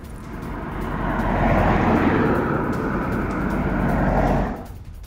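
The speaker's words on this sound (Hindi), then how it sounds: "मिडिल ईस्ट के आसमान में ये फाइटर जेट्स नजर आए हैं।" Military fighter jets over the Middle East pass overhead as a broad, loud engine roar that swells, holds steady for several seconds, then fades out, with no speech.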